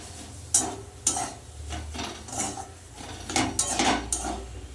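Spiced stuffing for teasel gourd is stirred in a hot cooking pan with sugar and garam masala, giving rhythmic scraping strokes over a soft sizzle, close and fairly loud, without talk.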